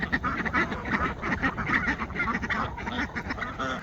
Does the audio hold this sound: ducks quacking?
yes